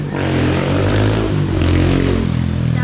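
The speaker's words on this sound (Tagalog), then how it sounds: "ingay ng motor" A motorcycle engine runs loud and steady outside a restaurant, with a continuous rough drone and slight rises in pitch throughout.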